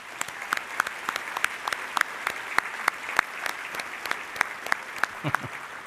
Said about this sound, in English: Let's have a round of applause for these incredible groups of Plymouth supporters.